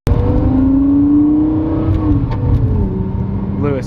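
A Lexus LFA sports car engine revs loud and close, a sustained rising tone holding, then easing off as the engine note drops and a voice talks over the tail end.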